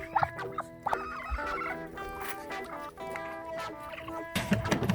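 Repeated throaty duck calls and honks, close by, overlapping in an irregular stream with a few sharper squawks, from a duck that has been sitting on a nest on a farm.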